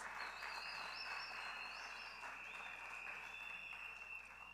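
Applause at an evening political party meeting, a steady wash of clapping heard from a distance alongside chirping frogs or insects and a whistling tone.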